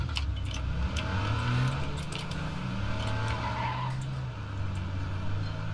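A car drives in the video game H1Z1 with a steady engine drone whose pitch rises and falls. Faint clicks and clatters sit over it, moderately loud, with no speech.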